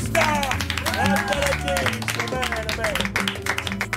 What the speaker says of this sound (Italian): Facciamo pure un applauso al regista!